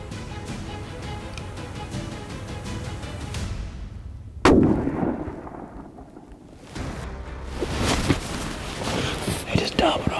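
A single sharp rifle shot from a McWhorter rifle loaded with ADG brass during an Oklahoma whitetail hunt, a loud crack followed by a long rolling echo that fades before background noise and faint voices return.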